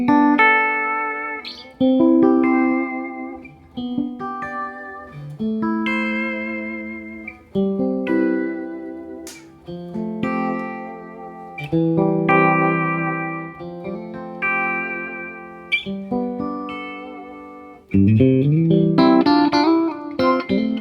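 Electric guitar played through a 1971 Fender Vibrolux amp with bass and treble at 5 and light reverb, into a vintage Vibrolux 1x12 cabinet miked with a ribbon mic; clean, sustained chords and melodic phrases ring out with gentle reverb tails, no talking.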